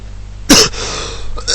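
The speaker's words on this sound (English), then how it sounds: "I was hoping I wouldn't cough in this video" One short, sharp cough bursts out close to the microphone, followed by quiet room hiss and a softer throat-clearing burst at the end, with no talking.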